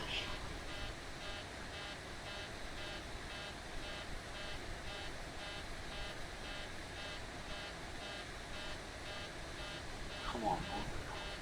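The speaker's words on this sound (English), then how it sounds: "nothing's telling me why this alarm is kicking off" A cockpit warning alarm in a PMDG Boeing 737 in the Prepar3D flight simulator repeats in a steady, even pulse for the whole stretch, holding a constant moderate level over a dense background hum.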